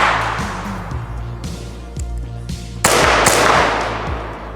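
CO2-powered airsoft Hi-Capa pistol firing a run of sharp, crisp cracks at an uneven pace, each shot a loud close snap over a steady low background hum, with a louder stretch of shots near the end.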